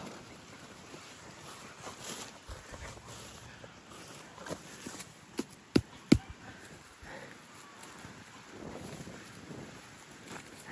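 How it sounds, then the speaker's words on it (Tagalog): Strong wind buffets the microphone outdoors on a farm where goats are let out before rain, a continuous rough rush with several sharp gust thumps partway through. "Oh, lakas ng hangin mga ka-BSK."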